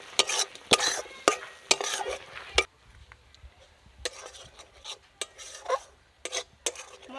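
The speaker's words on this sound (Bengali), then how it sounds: "মশলাটা কিন্তু ভালো করে কষিয়ে নিতে হবে" Spice paste with slit green chillies being stir-fried for a village-style crab curry, sharp metal spatula scrapes against the pan in quick bursts over a faint sizzle, with quieter stretches between.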